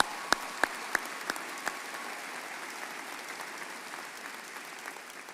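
Applause for graduates at a college commencement ceremony: a few sharp claps up front, then a steady, moderately distant wash of clapping from the audience with no voices.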